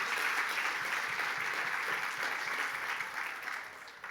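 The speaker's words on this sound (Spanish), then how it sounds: "Dele fuerte al Señor el aplauso." A church congregation applauds during a sermon, a sustained wash of many hands clapping at once that stays loud and fades slightly toward the end.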